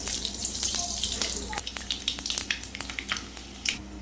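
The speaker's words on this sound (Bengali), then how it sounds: "তেলের উপর দিয়ে দেবো তেজপাতা আর পাঁচফোড়ন" Bay leaves and panch phoron spices dropped into hot oil in a kadai sizzle and crackle close up, a dense frying hiss broken by rapid popping and spitting bursts, with faint background noise.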